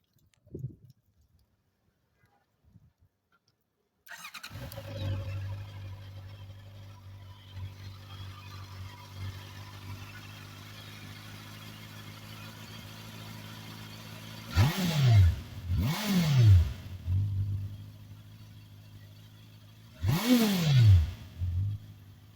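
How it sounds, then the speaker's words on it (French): A 2019 Honda CB650R roadster motorcycle idles with a low steady engine note for several seconds, then three sharp throttle blips rise and fall in quick succession, loud and close, with no talking over it. "Quand vous êtes au ralenti, on entend peu le moteur et puis dès qu'on accélère un petit peu, c'est vraiment super sympa."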